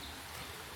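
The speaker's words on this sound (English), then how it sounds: "there is a bit of water flowing in the river" Water flows in a river after wet weather, a continuous broadband rush and trickle heard steadily and fairly close, with no voices over it.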